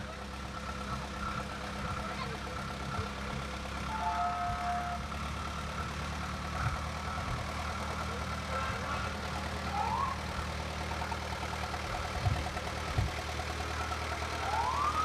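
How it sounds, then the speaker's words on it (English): A 1965 Ford 5000 tractor engine runs steadily in a parade, a low continuous drone that holds mid-distance for the whole stretch, with street ambience and brief siren-like whoops drifting in behind it. "Next up, we have Matthew King from Jamestown on his 1965 Ford 5000"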